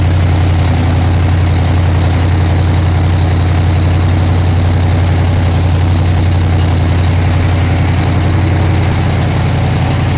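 A loud, steady race car engine warming up on a chassis dyno drones continuously with a deep low hum and constant rumble, running at an even pace without pauses.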